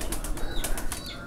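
A breeder pigeon held in the hand beats its wings in rapid, loud bursts of flapping, close up and without any talk.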